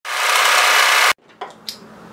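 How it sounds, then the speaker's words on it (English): An overlocker stitches the short end of a folded fabric neckband, running as one steady, close whirring burst of about a second before it stops abruptly, followed by a couple of faint small clicks. "fold that right sides together and then overlock together the short end"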